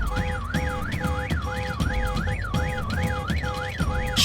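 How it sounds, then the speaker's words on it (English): A car alarm blares in the zombie survival game VEIN, its siren sweeping up and down in a steady repeating wail over a pulsing two-tone beep, loud and continuous throughout. "making my way downtown with a car alarm blaring"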